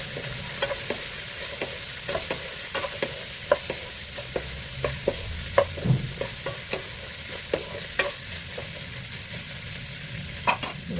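Ground pork or meat and carrots stir-fried in a pan for pancit palabok, with a spatula scraping and clacking in a steady rhythm of sharp strokes over a soft background sizzle, close and alone.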